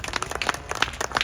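A church congregation at a prayer meeting claps, a brief burst of quick, uneven hand claps from many people, close and fairly loud.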